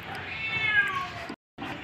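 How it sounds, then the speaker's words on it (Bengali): A drawn-out, rising and falling yowl comes from two cats fighting in a garden. It breaks off into a brief silence, then another cry starts up. "ঝগড়া করছে দুটো বিড়াল মিলে"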